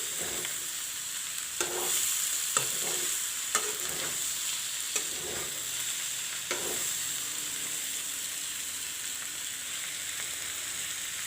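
A mixed vegetable bhujia of broccoli, carrot and capsicum fries in a pan with chili powder, salt and saffron, a steady moderate sizzle punctuated by occasional spoon clacks as it is stirred, without speech.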